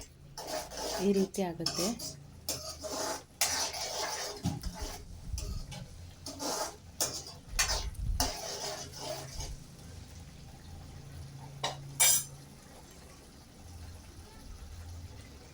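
A metal ladle scrapes and clanks in a pan while stirring puliyogare rice mixture, giving irregular loud clatters for about ten seconds before fading, with someone briefly speaking.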